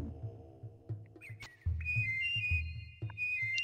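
Whistled melody puzzle in the video game Oddworld: Abe's Oddysee: short clear whistle notes rise and hold over a low rhythmic pulsing game backdrop, close and moderately loud, with no talk.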